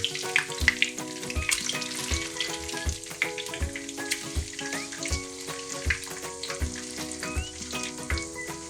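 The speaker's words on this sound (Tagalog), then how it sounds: "pirituhin natin yung pati into medium heat" Food fries in a pan over medium heat, giving a steady sizzle with crackles and pops throughout at close range, and no talk.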